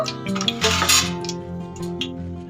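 A metal pot set down on a small stove in a home kitchen while veg chicken rice is prepared, with a few close clinks and a scraping clatter of cookware, no talking.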